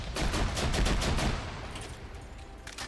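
A grenade machine gun fires in Arma 3: rapid, loud thumping bursts for about a second and a half, then sparser, fainter reports as the shooting tails off.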